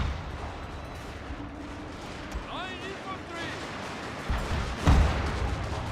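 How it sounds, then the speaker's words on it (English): Artillery bombardment from a Shogun 2: Fall of the Samurai battle: whistling shells arc over a dense battlefield rumble, then heavy booms land near the end. "we got another bombardment"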